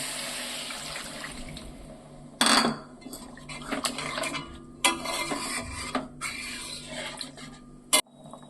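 Water poured into a pan of spice masala that has been frying in oil, giving a rushing splash and hiss with clattering of a utensil against the pan in uneven bursts, with no speech.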